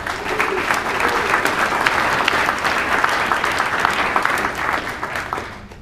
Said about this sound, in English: can we get one more round of applause for all the organizers?